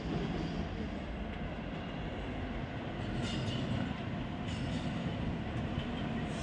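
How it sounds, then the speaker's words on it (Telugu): Low rumble and rushing noise of a train on the tracks, steady and moderately distant, with faint wheel squeal. "అదిగో ట్రైన్ వస్తుంది."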